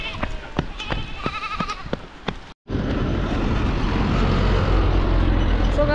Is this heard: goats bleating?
yes